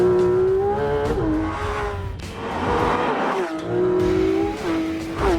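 A Porsche 911 GT3 RS with a naturally aspirated 4-litre flat-six making 500 horsepower and redlining at 9,000 rpm revs loudly and close, its engine note climbing and falling in several surging bursts.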